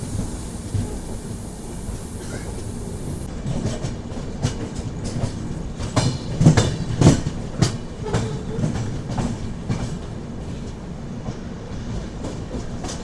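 Godavari SF Express pulling into Vijayawada Junction, platform 7: a steady low rumble of rolling coaches with clattering wheel knocks and rattles that swell in the middle, heard up close from on board, no talk.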